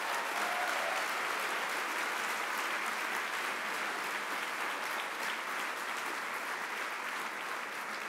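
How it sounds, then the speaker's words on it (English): Sustained, dense applause from a large audience at the 2011 BAFTA Video Game Awards ceremony, loud and steady clapping throughout with no voices standing out. "Give yourself a massive round of applause."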